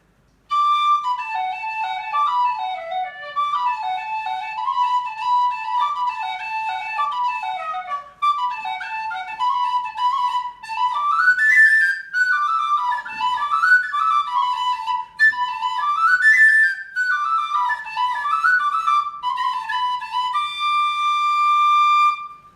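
A Tony Dixon aluminium-bodied tin whistle plays a bright, lively melody solo, with clear high notes and quick ornamented runs, close and steady throughout.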